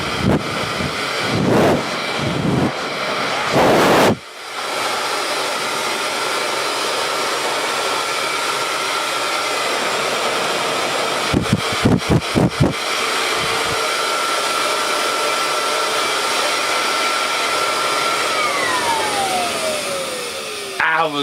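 A Kirby Legend 2 vacuum cleaner run as a blower gives a steady, loud airflow roar, broken by a few short bursts and dropouts as the hose is handled, with a falling whine near the end.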